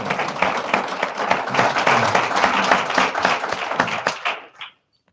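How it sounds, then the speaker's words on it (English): Rotary audience gives a lively round of applause for guests presenting climate-smart farming work, dense, loud clapping for about four seconds before cutting off abruptly. "Let's give them one more round of applause."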